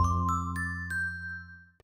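The McDonald's brand jingle plays as a short melodic tune, a few bright stepping notes over sustained tones, moderately loud and with no voices.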